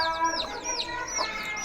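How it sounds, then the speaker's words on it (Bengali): Desi chickens and chicks on a farm make repeated soft clucks and chirpy calls, close by and fairly steady, with no talking. "আমাদের দেশি মুরগি বাচ্চাগুলো খুব ভালো আছে মাশাআল্লাহ"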